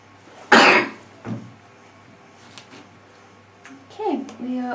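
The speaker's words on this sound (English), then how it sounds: "I feel like I want to cough." A single sharp cough bursts out close by, followed by a softer throat sound and faint scattered background noises.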